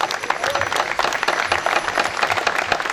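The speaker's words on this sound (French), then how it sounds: "On peut l'applaudir." A crowd applauds at the Saint Éloi festival in Eyragues, with steady, dense clapping from many hands that fills the space continuously at a fairly loud level.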